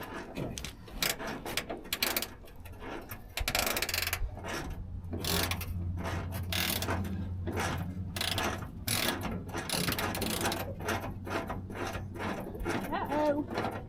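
A ratchet works a bolt loose underneath a 1972 Chevrolet C10 parked on rocky ground, giving repeated close metallic clicking in short bursts, with people talking nearby.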